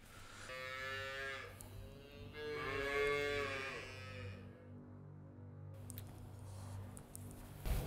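Pregnant dairy cows in a calving pen moo loudly, two long drawn-out calls close by, followed by quieter barn ambience.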